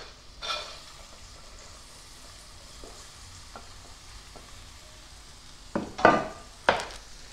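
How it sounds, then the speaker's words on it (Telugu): Thin potato slices sizzle in hot oil with salt in a pan, a low steady fry broken by a few louder stirring scrapes and clatters of a spatula near the end. "ఇప్పుడు మనం నూనెని పర్ఫెక్ట్గా చుట్టూ అనుకుంటున్నా, ఉప్పు వేసాం కదా, ఇప్పుడు ఆలుగడ్డలు వేసేసుకుందాం."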